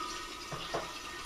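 Merlot from a wine kit pours through a hose and splashes against the side of a carboy, making a soft, continuous watery trickle with a couple of brief gurgles, quiet and close.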